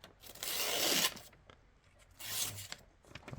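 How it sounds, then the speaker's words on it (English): A cheap knife cuts and tears through paper in two rasping, scratchy strokes, each lasting about a second, close up with a quiet pause between them. "I really didn't expect it to cut any paper."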